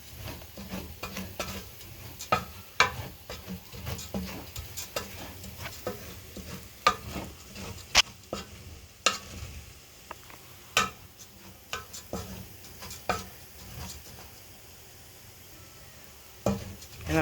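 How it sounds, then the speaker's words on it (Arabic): Three cups of rice fry in hot oil for Egyptian rice while a spoon stirs constantly, producing a low sizzle broken by frequent rhythmic clicks and scrapes against the pot. "سخنا الزيت ونزلنا بيه دول 3 كوبايات رز. هنفضل نقلب فيهم، بنفضل نقلب كده."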